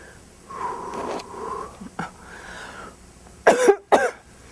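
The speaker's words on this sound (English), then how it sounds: "Coughing is the body's natural response to energy shifting." Two sharp, harsh coughs near the end, preceded by quieter breathy throat sounds and a brief rasp.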